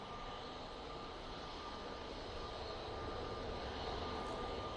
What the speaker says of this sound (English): Ryanair coming in from Prague. using the 737-800